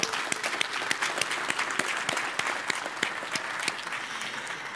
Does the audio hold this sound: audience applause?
yes